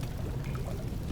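Sewer water flowing in the video game Amnesia: The Dark Descent, a continuous close pouring gurgle with a low watery rumble, steady and unbroken for the whole second, with no talking over it.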